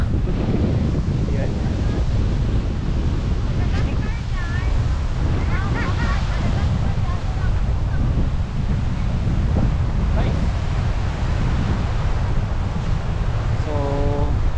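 Strong wind roars steadily across the microphone while waves wash and crash at the shore near a lighthouse in Tagum City, Philippines, with a few faint voices briefly audible.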